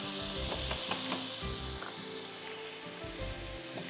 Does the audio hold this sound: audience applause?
no